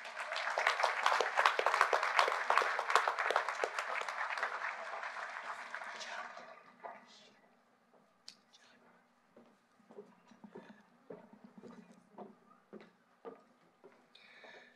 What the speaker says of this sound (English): Please give one final round of applause for our 2023 top 10 graduates.